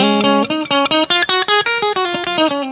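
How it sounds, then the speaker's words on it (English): Fender Stratocaster electric guitar with Custom Shop handwound single-coil pickups, two pickups combined, playing a quick string of bright plucked notes in an even rhythm, clean and close. "It totally makes that Strat sound when you do the two pickups at a time."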